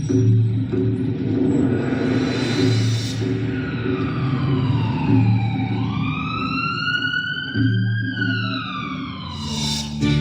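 Wailing ambulance siren sweeping up and down in pitch, loud and steady through the whole stretch over a low engine rumble, passing close by without any talk.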